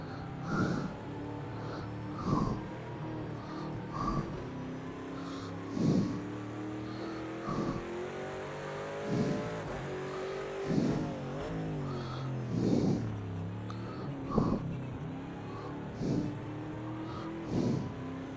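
A racing car's engine in a driving video game holds a steady drone with rising and falling revs, broken by regular louder bursts every couple of seconds as it shifts or slides through corners. No one speaks over it.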